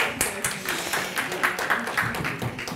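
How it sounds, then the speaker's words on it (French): Audience applause welcoming a speaker on stage at a round-table event, steady clapping from a moderate crowd with uneven individual claps, heard alone. "On peut vous applaudir."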